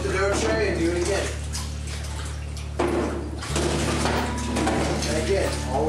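Water sprays steadily across a dough tray in a sanitizer sink, a continuous hissing wash with a brief break partway through, heard at close range alongside light clatter and background voices.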